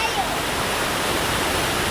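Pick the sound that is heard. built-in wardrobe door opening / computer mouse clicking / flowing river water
flowing river water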